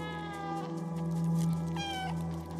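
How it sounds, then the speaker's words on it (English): A single short meow from the player's cat in Stray, triggered with the meow button, rises briefly near the end over a steady game background drone. "Having a dedicated meow button."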